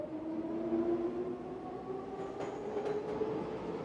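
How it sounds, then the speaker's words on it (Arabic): A train rolling along steadily with a continuous low rumble and humming drone, a few faint clanks and squeaks near the end, no voices. "القطار يتحرك."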